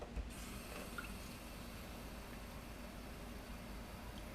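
Water pours steadily into a bin to mix with white vinegar, a soft continuous splashing and trickling with faint drips, close and fairly quiet, with no talking.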